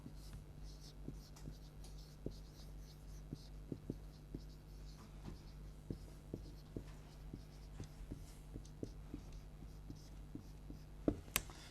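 Pen strokes scratch steadily on paper during an online maths tuition lesson, a faint, close run of short rhythmic taps and scrapes over a low electrical hum.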